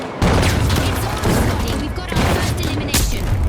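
Rapid, dense gunfire from The Finals video game rattles continuously with heavy booms and crashing impacts, loud and close throughout the short burst.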